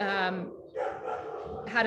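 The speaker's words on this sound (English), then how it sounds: "sorry about the dogs, you guys." Several dogs bark and yip loudly nearby in a home, in short bursts that overlap a person talking during an online meeting.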